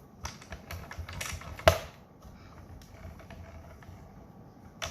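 A paper trimmer cuts kraft card for a gift box, giving a quick run of close, dry clicks and scrapes with one sharp snap partway through, then quieter rustling.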